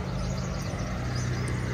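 A vehicle idling close by, a steady low engine rumble that holds for a couple of seconds without change.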